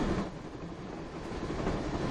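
A train rolls along rails with a steady, dense rumble and faint clattering of wheels. The sound is moderately loud and continuous, with no voices over it.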